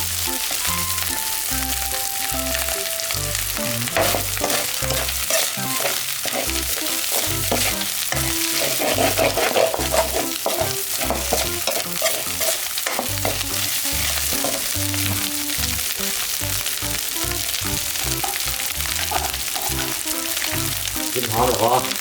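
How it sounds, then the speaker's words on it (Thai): Field rat being stir-fried with spices in a pan, a loud, continuous sizzle broken by repeated scraping and clattering stirs of the utensil, close and with no talk. "คั่วไปเรื่อย"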